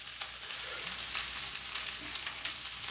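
Egg fried rice with egg and oyster sauce frying in a pan while being mixed, a steady close sizzle with light stirring scrapes throughout.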